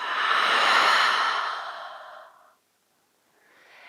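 A long, audible exhale through the nose and mouth during a yoga spine-curving movement, close and breathy as it fades out, followed by a brief pause before a softer inhale begins.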